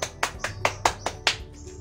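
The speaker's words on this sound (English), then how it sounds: "let's give the group one a round of applause" Clapping in a classroom during an English teaching demonstration: about eight crisp, evenly spaced claps in quick rhythm, close and fairly light, ending with a faint tone.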